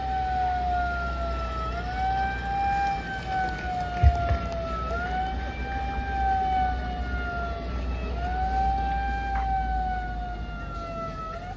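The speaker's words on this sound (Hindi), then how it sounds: "पूरा सायरन बजाते हुए जाना है" An emergency siren wails steadily in rising and falling sweeps, fairly close, over a low engine rumble.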